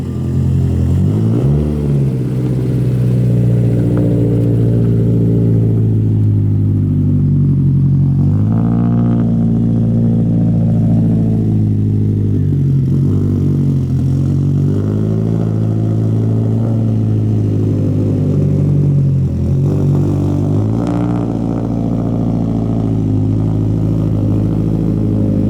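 A tuned Subaru WRX making about 500 wheel horsepower holds a loud, continuous throaty engine roar, swelling through repeated revs and pulls up close for the whole stretch with no speech.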